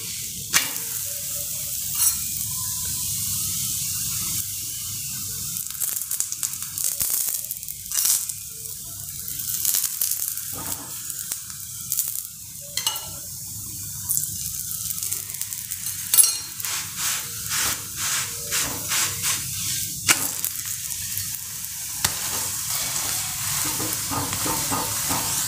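Dhapate flatbread made from fresh hurda roasting in a pan, giving a steady soft sizzle with intermittent scraping and stirring clicks, close by and alone.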